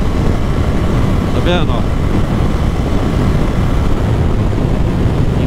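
A Royal motorcycle's engine drones with a loud, steady rumble and heavy wind noise while riding on a road, and a rider speaks briefly over it.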